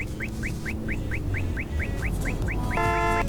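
A car horn blares near the end, preceded by a rapid series of chirping beeps over a steady rumble of traffic.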